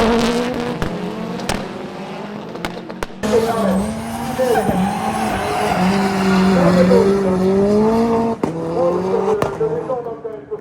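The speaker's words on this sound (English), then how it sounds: "Maybe we'll even cut some footage of these cars going around the track" Race cars, including a Ford Escort Cosworth WRC, lap a track with rising and falling engine notes and sharp crackles and pops. Some passes are near and some farther off, and a person's voice talks over parts of it.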